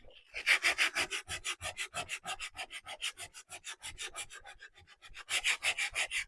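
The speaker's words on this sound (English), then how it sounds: "We don't want to go too crazy with sanding." Steady back-and-forth sanding strokes on painted wood, a rhythmic scratchy rasp repeating about three times a second, close and continuous with a brief slowdown near the end.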